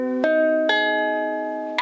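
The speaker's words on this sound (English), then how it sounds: "so basically just then I tuned my ukulele." A freshly tuned Tanglewood Cove Creek soprano ukulele strummed three times, each bright chord ringing and sustaining between strums, close and alone.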